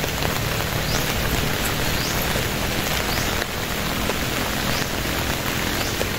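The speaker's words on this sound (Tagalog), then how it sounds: "Tag-ulan na naman." Heavy rainy-season downpour pours steadily and loudly, a dense unbroken hiss of water striking surfaces that runs the whole stretch with no voices over it.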